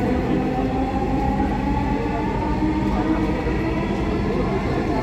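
A Dhaka metro rail train runs with a steady, loud rumble and rail roar that holds evenly throughout, with no distinct breaks or stops.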